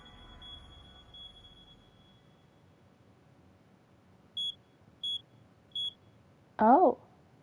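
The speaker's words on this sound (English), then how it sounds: "It's beeping." Three short electronic alarm beeps sound in a steady, evenly spaced rhythm in a PS5 game, clear over a low background hum, followed by a brief louder chirp.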